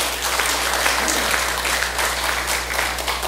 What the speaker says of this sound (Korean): 박수 한번 보내주시죠.